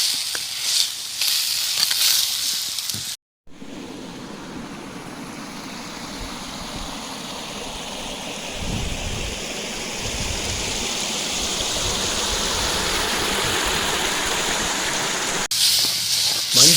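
Cleaned pirandai (adamant creeper) is stirred in a hot pan, giving a continuous close sizzle and hiss with soft scraping that holds steady for several seconds.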